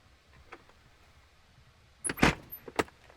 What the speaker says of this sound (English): now we'll shut this door